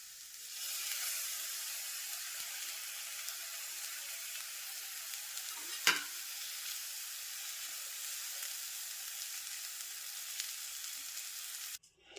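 Raw banana palya with lemon juice sizzles steadily in a hot pan, a soft continuous hiss with a single brief scrape of stirring partway through, faint and without talk.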